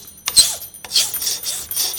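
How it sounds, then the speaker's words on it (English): A flat metal file is pushed across a workpiece clamped in a vise in a repeated series of rasping strokes, each one a close, loud scrape followed by a brief pause. "you are supposed to hold the other end of the file with a thumb and forefinger, and then you're going to work that in that direction"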